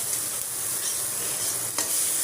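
Egg bhurji frying in a pan with tomato, onion, green chilli, red chilli powder, turmeric and salt: a steady, close hiss of sizzling oil throughout, with a brief scrape of stirring near the end and no talking.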